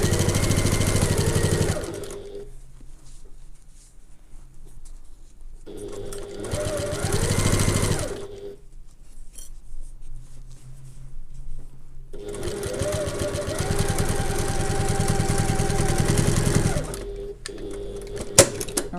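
A domestic sewing machine stitches a handbag in three loud, steady runs separated by quiet pauses, the motor's hum and rapid needle clatter starting and stopping abruptly.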